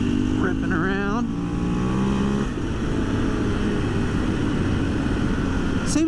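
A 2024 KTM 500 EXC-F dirt bike runs steadily in fourth gear, its engine drone loud and close throughout with a brief rising rev near the start.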